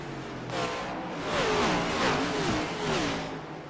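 Race cars at a Loudon, New Hampshire oval race, engines droning steadily at a moderate distance with rising and falling revs as the field passes, no talk.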